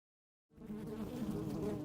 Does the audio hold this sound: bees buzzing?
yes